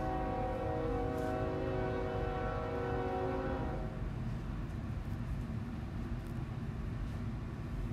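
A passing train rumbles steadily close by, its horn sounding a long, loud multi-tone blast for several seconds before cutting off, leaving the low roar of the rail cars continuing.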